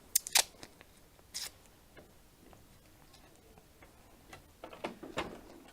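Scissors cut through card in a few short snips, with sharp close clicks near the start and again toward the end, quiet between them and with no talking.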